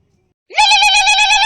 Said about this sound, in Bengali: থাম, আলমকে ফোনটা লাগাই।